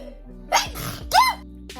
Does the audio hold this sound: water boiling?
no